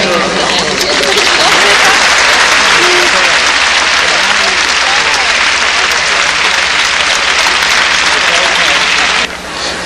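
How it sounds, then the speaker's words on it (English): Sustained audience applause at a 1983 German Shepherd dog show national, a dense, loud wash of clapping from a large crowd that holds steady for nearly the whole stretch before thinning at the end. "Let's give a hand to this beautiful group"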